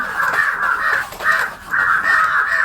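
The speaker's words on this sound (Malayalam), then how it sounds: "ഈ കാക്കകൾ ഇങ്ങനെ എപ്പോഴും വീഡിയോ എടുക്കുമ്പോഴത്തേക്കും വരും" Several crows caw loudly and close by in a quick series of harsh, repeated calls with short gaps between them, and no other sounds compete.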